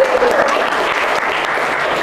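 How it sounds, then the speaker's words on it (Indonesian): Schoolchildren in a classroom applaud a classmate, a brisk burst of many small hands clapping together, close and steady from start to finish. "Tepuk tangan untuk teman kita."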